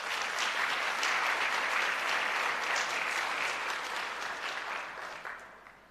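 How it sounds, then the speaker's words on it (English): Sustained applause from an audience at a ministry rebranding and quality recognition ceremony, a dense, even wash of clapping that holds steady and then tapers off toward the end. "I wanted to give them a round of applause."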